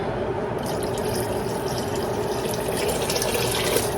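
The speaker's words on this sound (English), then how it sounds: "Let's get this water in." About four cups of water poured steadily into a pot for lamb stew, a continuous close splashing rush that runs throughout without talk.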